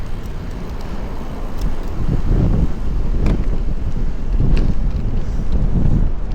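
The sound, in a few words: wind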